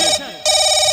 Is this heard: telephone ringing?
yes